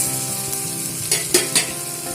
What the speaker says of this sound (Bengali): এবারে এর মধ্যে দিয়ে দেবো ভিজে রাখা আলু